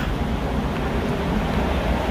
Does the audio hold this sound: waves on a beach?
yes